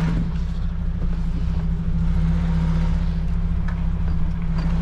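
A semi-trailer truck, a long-haul rig driven in Iceland, rolls slowly with one wheel riding up onto a curb, giving a steady, loud low engine drone with a constant hum throughout and no talk.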